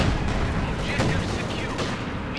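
Gunfire in the World War II strategy game Company of Heroes 2, continuous dense battle noise with rapid shots and explosions, loud throughout.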